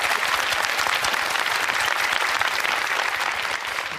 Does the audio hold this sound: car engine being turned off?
no